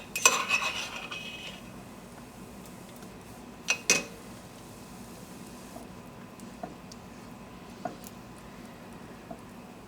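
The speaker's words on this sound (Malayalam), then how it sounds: "ഇതിലേക്ക് നമ്മുടെ ജലാറ്റിൻ ഇട്ട് കൊടുത്തിട്ട് നന്നായി മിക്സ് ചെയ്യാം" A spoon clinks and scrapes in a bowl as gelatin is stirred into a tender coconut pudding mixture, with a busy burst at the start, another near the middle, then only sparse light taps over a quiet room background.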